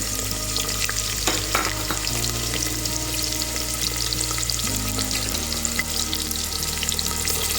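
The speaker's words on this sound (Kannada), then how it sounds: "ಎಣ್ಣೆ ಹಾಕಿ ಕಾದಿದೆ, ಸಾಸಿವೆ ಹಾಕ್ತಾಯಿದ್ದೀನಿ. ಈರುಳ್ಳಿ ಹಾಕ್ತೀನಿ." Onion and mustard seeds fry in hot oil inside a pressure cooker, a loud, constant crackling sizzle with a low steady hum running underneath, stirred now and then.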